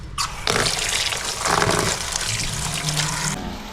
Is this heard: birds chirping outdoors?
no